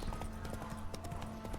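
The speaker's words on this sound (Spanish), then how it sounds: "Oye, mi caballo no sabe correr ya" Horse hooves in The Witcher 3 video game, a brisk, regular clip-clop of repeated hoof strikes at close range, quick and even in rhythm.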